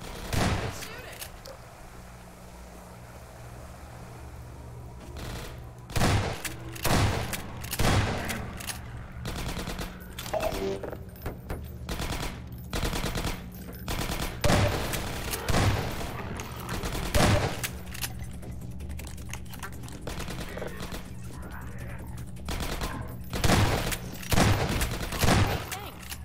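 Video-game gunfire aimed at a zombie: sharp bursts of shots recur through the scene, some single and some in quick clusters, loud and close over a low steady hum of game ambience.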